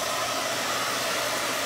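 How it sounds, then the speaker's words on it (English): A hair blow dryer runs steadily to dry paint on baseball gnome yard art, giving a constant, even whooshing roar close by with no pauses. "I know the blow dryer is really annoying, but I have to do it if we're gonna get to outline this"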